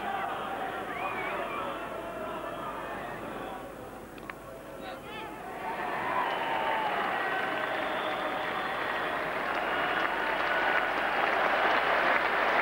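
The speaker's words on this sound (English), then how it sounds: "that brings a big cheer from the quite big crowd still remaining here" Large cricket crowd at a 1991 England v West Indies Test match at Trent Bridge cheering and applauding a fifty, a steady broad roar that swells louder after a few seconds and holds, with commentary talk over it.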